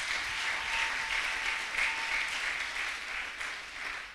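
A church congregation claps steadily, a dense and even wash of applause filling the room for several seconds, with faint voices beneath it.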